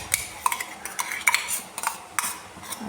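A spoon stirs an avial vegetable mixture in a pot, producing a series of close, sharp metallic clinks and scrapes at an irregular rhythm over soft background noise.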